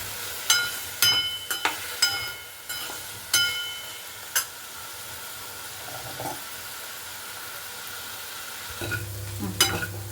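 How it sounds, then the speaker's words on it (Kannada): Potatoes frying in a thick-bottomed pan give a steady close sizzle and hiss, broken by several sharp stirring clinks of a utensil against the metal, with a louder scrape near the end. "ಚೆನ್ನಾಗಿ ಫ್ರೈ ಮಾಡ್ಕೊಳ್ಳೋಣ"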